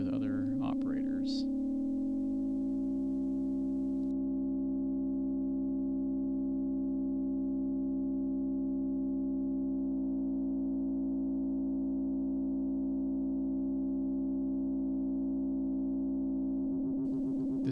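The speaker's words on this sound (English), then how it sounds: "You can also do multi-operator and cross-modulating FM." Layered electronic tones from multi-operator FM synthesis with operators cross-modulating a carrier on a matrix mixer, sustained and steady for over fifteen seconds with rich stacked harmonics after a brief noisy start.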